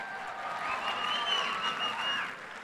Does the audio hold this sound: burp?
no